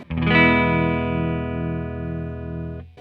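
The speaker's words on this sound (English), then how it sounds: "So I'm in the neck pickup setting all the way up, bassy sound, this pickup." Electric guitar played through the neck pickup with the tone knob turned all the way up, giving a bassy sound: one sustained strummed chord rings out loudly and evenly, then cuts off near the end.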